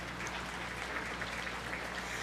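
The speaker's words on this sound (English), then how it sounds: "give all of our Simmental exhibitors a nice round of applause" Steady applause from a crowd at a 4-H beef cattle show for Simmental exhibitors, continuous clapping at an even level throughout with no voices over it.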